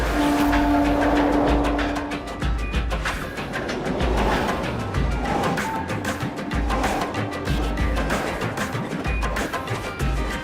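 A train rumbles past loudly and close on a Mumbai railway, wheels clattering rhythmically on the rails, with a brief horn blast at the start.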